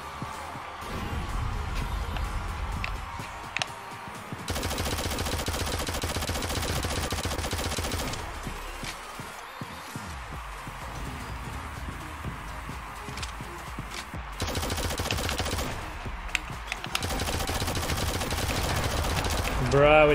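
Automatic machine gun fire in the shooter Shadowgun Legends runs in loud sustained bursts through most of the stretch, with brief gaps between volleys, and a voice talks over the shooting at times.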